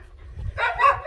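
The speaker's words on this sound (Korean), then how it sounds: "그랬더니 진돌이가 지방을 남한테 내줬다고 초롱이한테 내줬다고 짖나 봐요" A dog near a house kennel gives a loud, close bark that rises out of a low rumbling background, sharp and brief with no talk over it.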